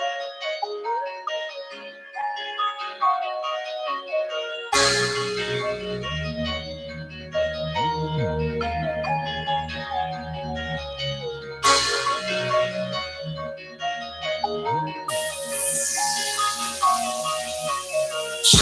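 A song plays loudly and continuously, with a bright melodic synth line, and a beat and bass enter after a few seconds; there is no talk over it.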